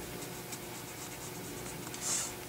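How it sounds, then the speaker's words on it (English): A pencil drags steadily across a wooden Santa carving to sketch larger eye sockets, a soft, continuous close scratching with a slightly brighter stroke near the end. "I'm going to sketch out just a little bit bigger eye socket"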